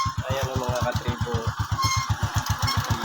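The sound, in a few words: motorcycle engine running, used to turn a lechon spit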